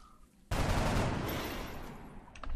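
A gunshot in the turn-based strategy game X-Com Enemy Unknown, one sudden loud blast followed by a long, dense rumbling burst of fire that slowly fades.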